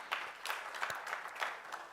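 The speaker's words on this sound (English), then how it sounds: "Another round of applause." Conference audience clapping in a brief, faint burst of applause, many hands patting in a dense, even patter heard from some distance.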